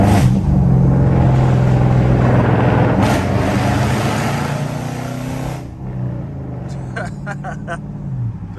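An AWD Chrysler 300 Hemi pulling hard through a tunnel: loud, sustained engine roar with reverberant rumble that drops off near the end, followed by faint clicks, with no talking.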